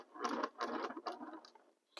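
A sewing machine stitches fabric in short, even bursts, four quick runs within two seconds, close and moderately loud.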